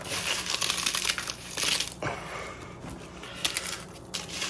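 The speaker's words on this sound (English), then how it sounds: "you crumple it up like this" Dry matzo crackers crumpled by hand into a big bowl, with loud close crinkling and crunching in uneven bursts and short pauses between handfuls.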